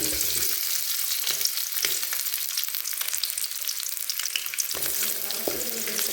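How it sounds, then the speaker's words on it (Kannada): Onions fry in oil in a pan for village-style mutton sambar, giving a steady, close sizzle with crackling bursts and a few stirring knocks throughout. "ಆಯಿಲ್ ಹಾಕ್ಕೊಂಡ್ಬಿಟ್ಟು ಸ್ವಲ್ಪ ಆನಿಯನ್ ಫ್ರೈ ಮಾಡ್ಕೋಬೇಕು."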